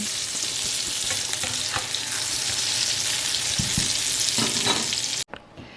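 Eggplant frying in a hot pan, a steady close sizzle with occasional stirring scrapes, continuous and even until it cuts off abruptly at the end; no one speaks.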